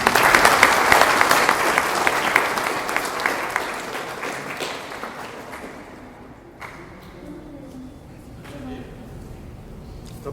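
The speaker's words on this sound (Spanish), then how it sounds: "les pido el más caluroso de los aplausos" Seated attendees at a book presentation in a cultural centre give warm, dense applause that gradually thins out and fades into quiet room noise with sparse claps, and a voice briefly speaks.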